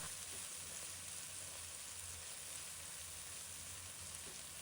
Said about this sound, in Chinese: 我们先把葱花煎炒2分钟左右，把葱的香味逼出来